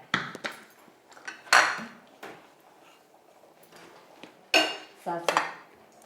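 Metal clanks and clatters of a pan being moved and set down, in a few sharp bursts with quiet gaps between them.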